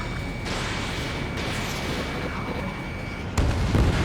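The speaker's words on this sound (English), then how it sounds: "Don't let them destroy the harbor! Where the hell are our fighters? The harbor's under heavy fire!" Sustained heavy gunfire and explosions rumble at a harbor under attack in the video game Ace Combat 7, a dense continuous barrage with a louder blast near the end.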